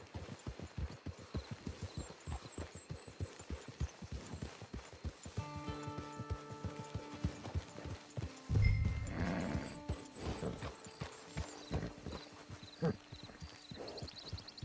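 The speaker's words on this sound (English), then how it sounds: "Get your horse." A horse in Red Dead Redemption 2 clip-clops along in a brisk run of close hoofbeats, then gives a loud whinny partway through before the hooves return.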